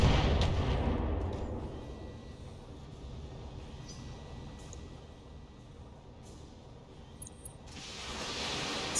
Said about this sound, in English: More missiles from the pass coming in on the Warhammer.